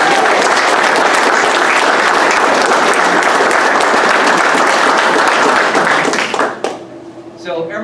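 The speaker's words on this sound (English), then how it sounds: "let's give them a round of applause" A graduation audience applauds the instructors of an Air Force civil engineer class, loud dense clapping sustained for several seconds before cutting off, followed by a voice speaking.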